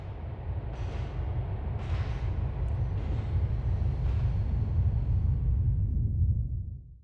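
A subway train rumbles steadily through a tunnel in the video game GTA IV, a loud, continuous low roar with faint rattling bursts that fades out at the end.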